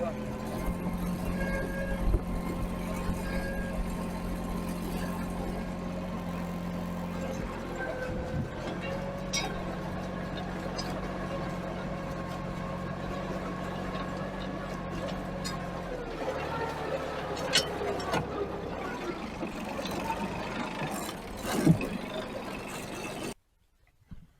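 A tractor engine runs hard, near full throttle, while rolling a sown barley field, its steady drone and hum continuous and close before cutting off abruptly near the end.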